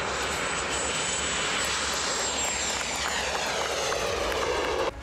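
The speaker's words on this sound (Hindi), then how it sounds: "यह खुद से उड़ने वाला स्टेल्थ ड्रोन है जिसकी रफ्तार काफी तेज है।" An indigenous stealth drone tested by DRDO at Chitradurga, Karnataka flies past with a loud, steady engine roar and a high whine that holds throughout before cutting off abruptly at the end.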